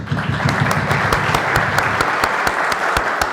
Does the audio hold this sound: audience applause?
yes